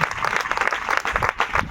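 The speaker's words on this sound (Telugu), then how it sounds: "కొట్టు చప్పట్ల." A church congregation claps together in a steady burst of dense, close applause filling the whole moment, with no voices over it.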